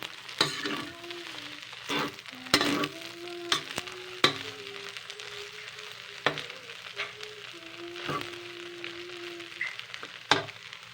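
Rice noodles (pancit bihon) stir-fried with tofu and eggs in a pan, giving a steady sizzle broken by repeated sharp scraping and clanking strokes of a utensil as the mix is turned, close and moderately loud.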